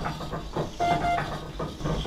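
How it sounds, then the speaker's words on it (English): A wood-fired steam donkey engine runs nearby, giving a steady rumbling chug with hissing steam and a brief tonal note partway through. "This steam engine operates essentially by a wood fire boiling a steep kettle full of water, creating steam."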